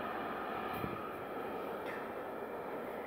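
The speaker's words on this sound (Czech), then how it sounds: "tamhle jede vlak, jak vidíte" A low, steady rumble of a train passing some distance away, continuous and fairly faint with no voices.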